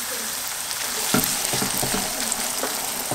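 Tomato pulp frying in a pan with onion and chorizo, a steady close sizzle with a few soft stirring scrapes and clatters, no talking.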